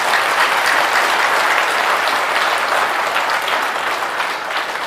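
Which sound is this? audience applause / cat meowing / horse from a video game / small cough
audience applause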